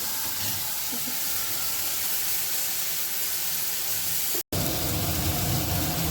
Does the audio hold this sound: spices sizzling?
yes